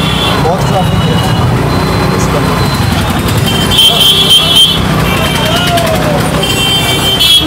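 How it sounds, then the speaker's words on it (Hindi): Busy road traffic streams past the Ranaghat rail gate in West Bengal, a continuous wash of engine rumble and passing vehicles with scattered horn-like tones, close and loud throughout. "ये है रेल गेट राणागढ़ का, बहुत ट्रैफिक है।"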